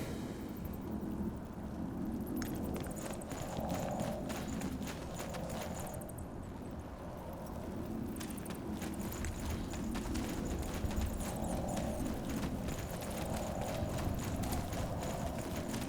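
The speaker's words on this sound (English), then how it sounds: "Did you hear that? Aye. Footsteps." Footsteps in the video game SpellForce 3 Reforced: a steady, rhythmic series of hard clopping steps continuing throughout, moderately close, over a constant ambient background with no voices.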